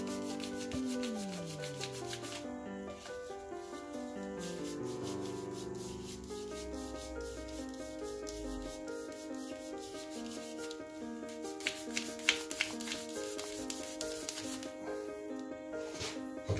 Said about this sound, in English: Now just sandpaper.